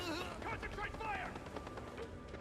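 Rapid bursts of gunfire from a first-person shooter video game crackle quietly beneath shouted combat voices, the shots scattered through the short stretch rather than standing alone.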